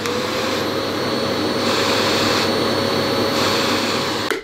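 An Amazon Basics 700W vacuum cleaner runs with a loud, steady whooshing roar and a constant high whine, close and uninterrupted throughout, with no talking.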